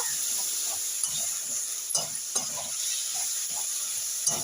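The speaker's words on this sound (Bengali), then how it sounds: "আদা রসুন পেঁয়াজটা একসাথে ভালো করে একবার কষিয়ে নেব" Ginger paste, garlic paste and onion sautéing in a pan, a steady soft sizzle broken by scattered scraping strokes of a spoon, close up and moderate in level, with no voices.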